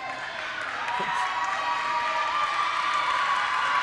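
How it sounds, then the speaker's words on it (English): A gym crowd at a high school basketball game against Collingswood roars in a steady, dense wash of cheering and shouting that holds at full level throughout, with no single voice standing out. "you hear this crowd cheering on Sterling and Jaden Johnson"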